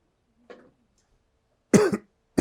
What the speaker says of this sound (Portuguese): Me perdoem pela tosse.